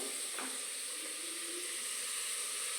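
Carrots, pointed gourd, potato and green chilli, with whole cumin seeds, fry in a pan, giving a soft, steady sizzle and hiss that stays quiet and even throughout.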